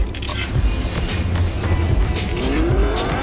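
A truck in the video game Fortnite drives with a loud engine rumble and tire squeal, then a rising engine whine as it maneuvers to park.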